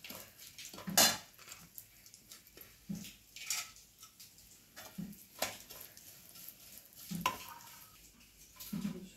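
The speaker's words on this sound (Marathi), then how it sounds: "आता मग बदाम आणि काजू पण छान परतून घ्यायचे." Almonds and cashews are tossed in a hot pan with a spoon: intermittent scraping and clinking of metal against the pan over a soft sizzle, close and fairly quiet, with no talk.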